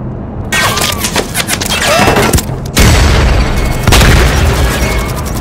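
Grenade explosion in an online squad shooter video game: loud, close booming blasts with bursts of rapid gunfire around them and two sharp heavy impacts, one near the middle and one later.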